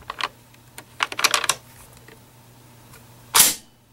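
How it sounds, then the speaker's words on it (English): An M1 Garand rifle's bolt slams forward once after the trigger is pulled on the empty rifle, a single loud metallic clack near the end, preceded by several fainter handling clicks. "Bolt goes forward."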